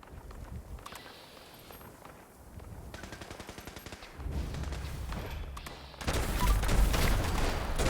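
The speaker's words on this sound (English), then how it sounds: "Shooting at that officer over there." Gunfire at an officer in the video game Fallout 76 comes as rapid automatic bursts, starting sparse and building into dense, continuous fire over a low rumbling game backdrop.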